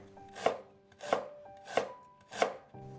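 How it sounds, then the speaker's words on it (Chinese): A knife slices a small piece of fresh ginger into thin slices on a cutting board, four crisp, evenly spaced chops heard up close, with no talking. "接着准备1小块生姜，切成薄片"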